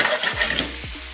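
Onion fries with pork neck in a pan, giving a dense close sizzle as it is stirred, with a couple of scraping strokes across the pan surface.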